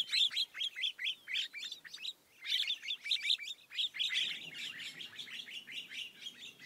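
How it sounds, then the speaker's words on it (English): A flock of wattled starlings in the Serengeti chattering and whistling continuously, many overlapping shrill calls in quick bursts, fairly close and steady throughout. "a large flock of wattled starlings, an intrusion the birds were quite vocal about"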